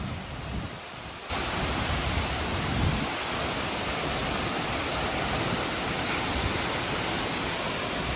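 Fall Creek Falls in Fall Creek Falls State Park runs heavy after three days of rain, a powerful, unbroken roar of falling water heard up close, briefly softer at the start before surging louder, with no talking.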